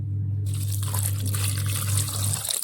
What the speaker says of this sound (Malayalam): ഒരല്പം വെള്ളവും കൂടി ഒഴിച്ച് നമ്മൾ കുറച്ച് വെള്ളം ഒഴിക്കുന്നുള്ളൂ